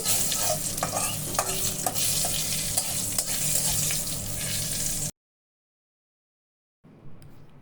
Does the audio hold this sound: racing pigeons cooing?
no